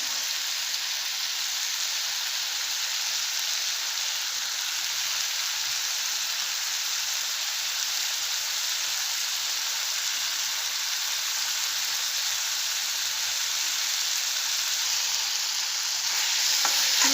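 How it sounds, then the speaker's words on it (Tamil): Chopped capsicum sizzles as it sautés in a pan while paneer masala dosa filling is cooked. The frying sound is a steady, even hiss that holds close and fairly loud throughout, with no talking. "இப்போது இதில் கட் பண்ணி வச்சுருக்கிற கேப்சிகம் சேர்த்துக்கிறேன்."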